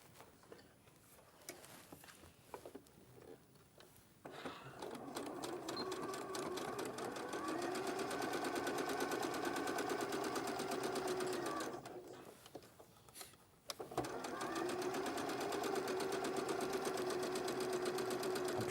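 A sewing machine runs a quarter-inch seam in two long, steady stitching bursts with rapid even ticking, separated by a short pause and preceded by quiet handling sounds.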